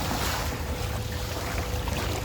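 Sea waves at a beach, a dense continuous wash of surf and wind noise filling the whole stretch, loud and steady with no voices.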